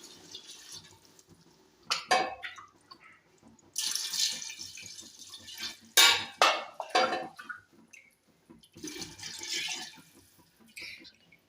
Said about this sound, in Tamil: அதுக்கு இப்போது 5 டம்ளர் தண்ணி ஊற்றிக்கிறோம்.